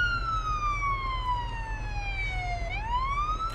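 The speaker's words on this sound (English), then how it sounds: "I have the siren sound turned down." A police car siren from the video game Police Simulator gives one long wail that glides steadily downward, then sweeps back up near the end, clear and prominent over a low rumbling background.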